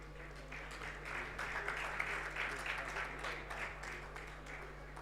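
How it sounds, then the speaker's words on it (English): Conference audience applauds the session moderator at a national chartered accountants' event, a steady sustained round of clapping from a crowd in a hall with a constant low electrical hum underneath. "Please give him a huge round of applause."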